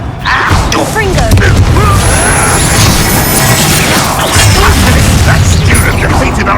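In Hogwarts Legacy combat, the Confringo fire spell bursts with a loud, rumbling blast amid dense clattering game effects, while character voices shout over the din.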